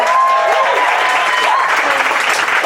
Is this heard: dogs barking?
no